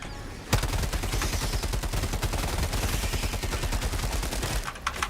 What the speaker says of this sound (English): Oh, it's the artillery.